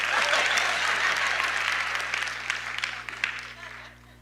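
A church congregation applauds, loud and dense at first, thinning to scattered claps as it fades out toward the end.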